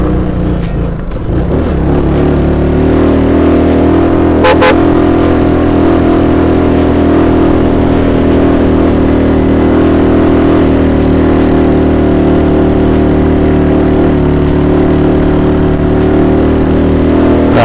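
A motorcycle carrying a passenger labors up the steep Snake Road between Calamba and Tagaytay, its engine holding a loud, steady, close drone throughout with no voices.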